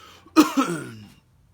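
A single rough cough with a throaty catch, close and fairly loud, trailing off into quiet.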